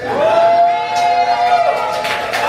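A stand-up comedy crowd in Montreal breaks into cheering and clapping, with a drawn-out whooping voice standing out near the front of the noise before it fades and swells again.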